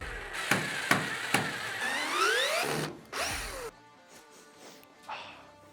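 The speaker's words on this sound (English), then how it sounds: "I am gonna use my power tool" A power drill whirs in a few short bursts while drilling a hole for a pull-up bar, then runs longer with a rising whine before stopping; clattering knocks and some faint background noise follow.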